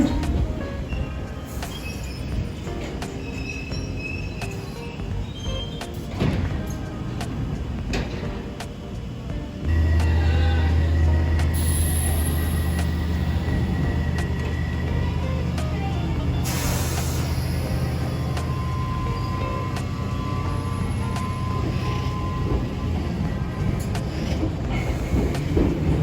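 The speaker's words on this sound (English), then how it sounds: "Piccadilly line, the train now approaching." A London Underground Piccadilly line train approaches the station, a loud steady rumble and hum building and holding for many seconds, with hissing and rattling, mostly without talk.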